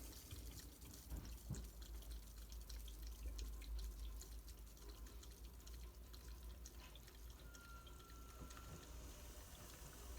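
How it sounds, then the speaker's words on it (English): Water running steadily through a Bulk Reef Supply dual deionization canister plumbing setup, a faint continuous hiss and trickle with occasional small drips over a low hum, no voices. "All right, water is going through."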